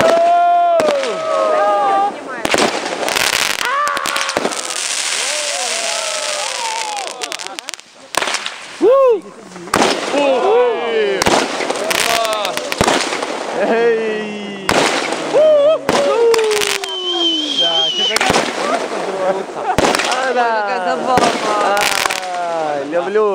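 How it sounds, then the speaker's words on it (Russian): Repeated fireworks bursts pop and crackle at intervals, loud and fairly near, with people talking and calling out between the blasts. "Вот там мы вот, пошла. Салют."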